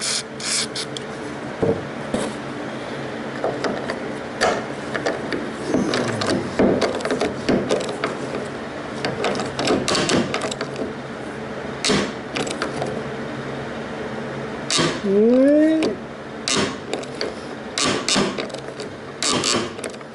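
A Snap-on ratchet skipping while working on a 1970 Pontiac LeMans wagon, giving irregular mechanical clicks and clatters throughout, close and moderately loud, with brief garage noises and a short whistle-like squeak partway through.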